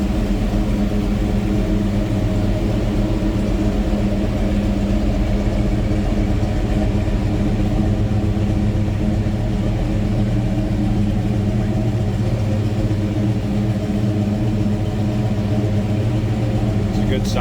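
A 1972 Chevrolet K20 Cheyenne pickup with a 454 V8 runs steadily from behind the truck, a deep continuous engine rumble that stays even and loud throughout without revving.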